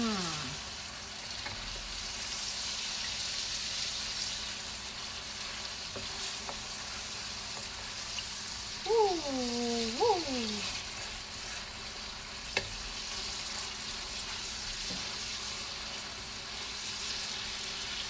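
Vegetables sizzle and fry steadily in a pan over medium-high heat for drunken noodles, a soft continuous crackle with occasional stirring; a faint voice briefly sounds partway through.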